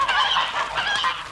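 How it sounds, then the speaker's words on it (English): Geese honk loudly and close by in a yard, several harsh overlapping calls rising and falling over about a second and a half with no talk. "I looked at the geese, which was hissing and huddling in the corner of the yard"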